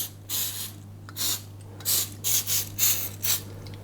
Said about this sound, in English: I'm just going to spray the tin a little bit with baking spray